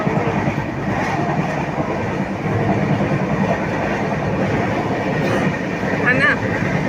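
Inside a moving express passenger train, a steady rumbling roll with rhythmic clickety-clack of wheels on rail joints runs throughout, while people talk over it.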